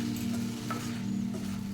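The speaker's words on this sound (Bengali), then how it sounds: "মুগ ডাল আর শাকটা মশলার সাথে আস্তে আস্তে আমি কষিয়ে নিচ্ছি" Mung dal and pui shak greens sautéed with spices in a pan for a fully vegetarian dish, giving a steady low sizzle with faint stirring scrapes throughout.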